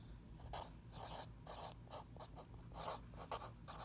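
A pen scratches across paper in short, quick strokes, close and fairly soft, with brief pauses between marks and no one talking.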